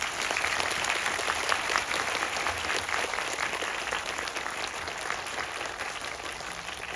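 A film festival audience claps steadily for several seconds after a screening talk, a dense patter of applause that fades slightly toward the end.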